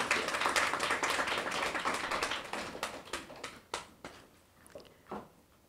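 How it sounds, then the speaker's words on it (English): Applause from an audience at a King's Birthday Honours investiture, a dense burst of clapping that thins out into scattered individual claps toward the end. "Round of applause, ladies and gentlemen."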